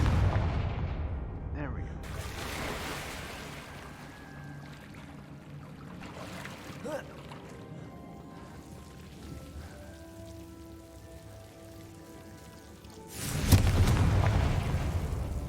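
Confringo, an explosive spell in a Harry Potter video game, goes off as a crackling burst at the start and again as a louder blast near the end, over quiet game ambience, with a brief spoken voice.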